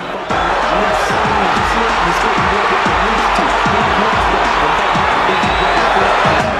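A boxing arena crowd rising and cheering loudly for a first-round knockout, a dense continuous roar of voices with a commentator talking over it.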